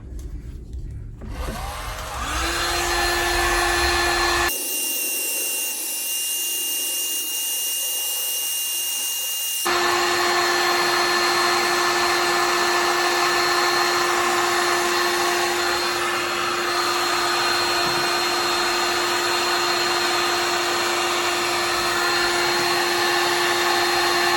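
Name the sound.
old paint stripper heat gun blowing hot air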